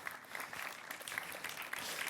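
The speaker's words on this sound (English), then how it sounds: "everyone on this side, just make a gentle clapping, please" An audience on one side of a gala ceremony hall clapping gently, a soft, continuous patter of many hands at moderate distance.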